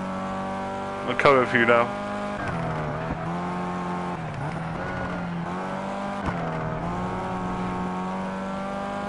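A Formula 1 car races on a wet track in the Project Cars video game, its high-pitched engine droning steadily and rising and falling with gear changes. Someone talks briefly over it at the start.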